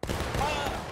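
Reenactors fire a musket volley at an outdoor living-history event, a single dense blast of black-powder shots that rings into a loud, sustained rumble with voices murmuring beneath it.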